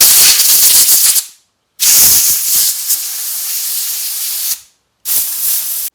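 Compressed air blasts debris out of an old 1926 Oakland car part in loud hissing bursts: one about a second long, a longer sustained blast, then a short final burst, separated by brief silences.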